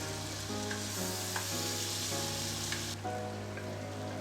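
Potato and eggplant fry in a pan with cumin-coriander powder, red chilli powder and whole green chillies, giving a steady, close hiss of sizzling oil with occasional stirring scrapes under a faint tonal background.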